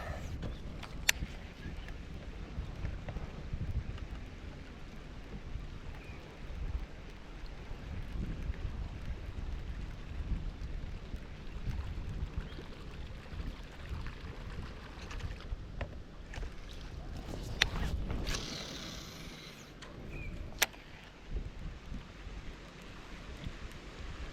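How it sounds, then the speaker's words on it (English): Wind buffets the microphone in gusty rumbles, with a few sharp knocks and splashy bursts along the way and no one speaking. "Weird sort of windy, cloudy day."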